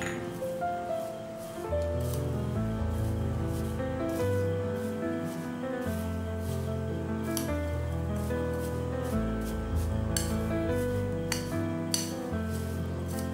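Fried flattened rice (chira) is tossed and mixed with chopped chili in a pan, giving a continuous close scraping and rustling with light clinks of a spoon against metal, steady and fairly loud, without speech.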